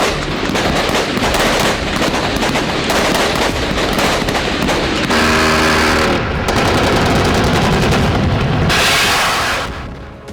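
Heavy gunfire in the Russia-Ukraine war: dense, loud, continuous bursts of rapid automatic fire with booming reports layered throughout, sustained for about ten seconds before fading slightly at the end.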